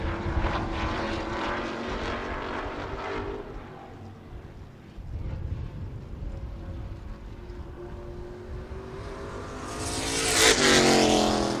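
A short-track race car, one of the modifieds, street stocks or limited late models, runs a timed lap, its engine roaring past, easing off mid-lap, then swelling to a loud close pass at the end.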